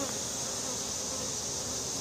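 Honeybees buzz around the hive in a dense, continuous drone that stays close and steady with no pauses.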